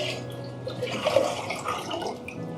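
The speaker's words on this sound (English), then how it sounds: "So I'm just going to pour these in my pot" Peaches with their liquid splash and slosh as they are poured into a pot, a soft, short burst of pouring close by.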